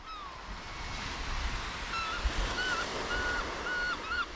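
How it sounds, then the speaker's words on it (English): Several short, repeated honking bird calls ring out over steady crashing surf and wind on a remote beach, moderately distant and fairly clear above the waves. "Hey up, bird noise."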